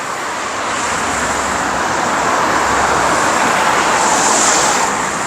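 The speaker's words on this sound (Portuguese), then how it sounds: "À medida em que escurece, a gente vai vendo mais carros." Dense rush-hour car traffic at dusk in Curitiba, Brazil, forms a continuous loud roadway roar with a faint high whine on top, steady throughout with no voices.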